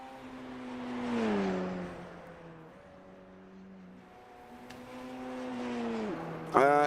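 A Radical race car in a sim racing game lapping the Le Mans circuit, its engine whining up and down through the gears and swelling past in steady, fairly loud revving, with one sharp high surge right at the end.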